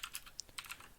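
A command typed on a computer keyboard: a quick run of light key clicks over about a second, faint and close, with no voices.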